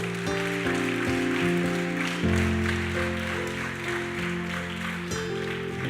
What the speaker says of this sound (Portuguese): Você poderia dar um aplauso a Ele por isso?